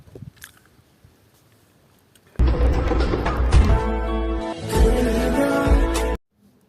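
Close, loud crunchy chewing of jujube fruit eaten with salt and chili, a sustained burst of biting and mastication after a quiet start, with no talk.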